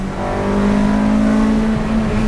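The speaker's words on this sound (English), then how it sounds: "The VTEC is so loud, it sounds so good." A track-focused Acura RSX engine revs hard into VTEC, sustaining a loud, rising, high-pitched intake and exhaust howl heard from inside the car throughout.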